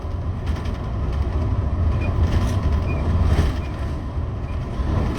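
A bus drives along an Indonesian toll road, its cabin filled with a steady, loud rumble and low rattling that stays constant without pause.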